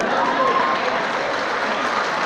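An audience claps continuously at a graduation ceremony in a convention centre, a dense, even wash of hands filling the hall for a couple of seconds.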